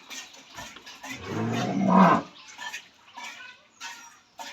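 A dairy cow, a young first-calf milking cow, lets out one long, loud, close moo in the middle, with quieter shuffling and faint farmyard noise around it.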